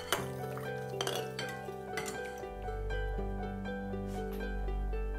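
A spoon clinks against a bowl while a sugar, salt and white rice vinegar brine is stirred for pickled vegetables, bright ringing taps landing irregularly over a soft swirling wash, close and quiet with no voices.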